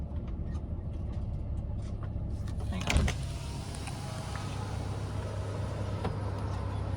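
Trucks idle at an overnight truck stop parking area, a steady low diesel rumble running throughout with a brief louder knock or clunk around the middle, no talking.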